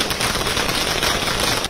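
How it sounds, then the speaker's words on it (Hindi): Firecrackers burst at a BJP office celebration in Gandhinagar, a dense crackling barrage that stays loud and continuous throughout. "कार्यकर्ताओं में यहाँ पे फटाके फोड़े जा रहे हैं"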